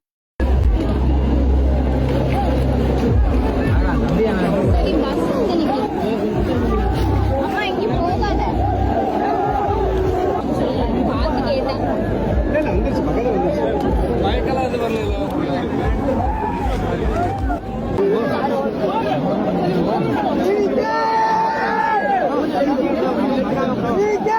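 A large crowd at a TVK political rally makes a loud, continuous babble of many voices throughout, with vehicle noise mixed in.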